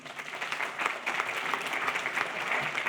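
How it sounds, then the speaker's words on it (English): Steady applause from an audience at a conference talk as volunteers come up, continuous clapping for a few seconds without speech. "Give them a big round of applause."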